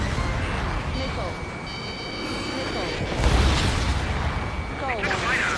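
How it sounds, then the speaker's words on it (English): A jet's missile launches and explodes in the flight game Ace Combat 7, a whooshing release followed by a rumbling boom over constant engine roar, with radio chatter and beeping tones layered on top. "Target hit. Missile away."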